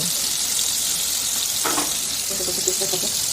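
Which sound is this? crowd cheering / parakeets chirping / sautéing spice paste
sautéing spice paste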